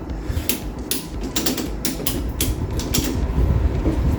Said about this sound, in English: the ratchet's not ratcheting very well, which is not ideal.